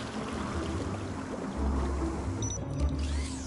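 Water sprays steadily from a machine in the video game Beyond A Steel Sky, a continuous hissing, splashing wash at moderate level with a deeper rumble underneath.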